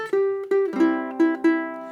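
Ukulele picking a short melodic phrase from the folk tune Buffalo Gals: five or six plucked notes with open strings ringing, near and clear, with no voices.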